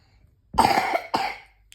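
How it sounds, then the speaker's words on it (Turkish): Two coughs close by, the first a rough burst of several quick hacks, then a single shorter cough after a brief pause. "Öksür."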